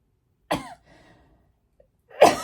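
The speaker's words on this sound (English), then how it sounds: "if the coughing is getting annoying, I understand" Two separate harsh coughs from one person, close by, with near silence and faint breathing between them.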